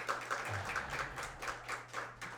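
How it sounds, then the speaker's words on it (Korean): Church congregation clapping during a Sunday worship service, a quiet, steady patter of many hands heard from a distance in a reverberant room, with a low hum underneath. "박수로 격려하겠습니다."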